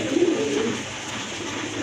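A pair of rare short-face pigeons coos softly but steadily, a low rolling murmur that stays close and continuous with no voices over it.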